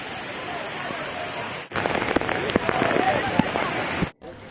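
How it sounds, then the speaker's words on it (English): Hivrem waterfall in Goa during monsoon rain, a steady broadband rush of falling water with a dense patter of drops that grows louder midway and then cuts off briefly near the end. "A wide view of the waterfall and the water flowing in the background."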